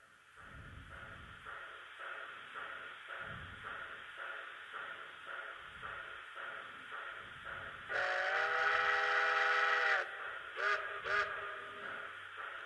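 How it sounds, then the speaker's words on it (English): An HO scale DCC 2-6-0 brass steam locomotive model chuffs rhythmically, then its whistle gives one long steady toot followed by two short toots, loud and close. "The whistle can do both long and short toots"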